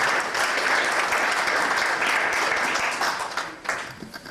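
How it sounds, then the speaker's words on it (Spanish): A seated audience at an academic panel on Aymara economics claps for an introduced speaker, dense sustained applause that holds steady and then thins out near the end. "Quisiéramos darle un aplauso, por favor, antes de escucharlo."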